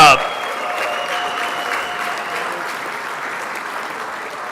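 Banquet crowd applauding at an RC racing world championship awards ceremony, a loud burst at the start settling into steady, sustained clapping with faint cheers.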